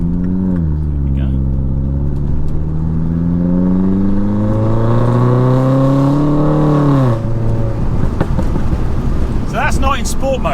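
Modified R56 Mini pulling hard on an open road, engine note climbing steadily through a long gear for several seconds, then a shift and a lower roar, loud and close from inside the cabin, with brief speech.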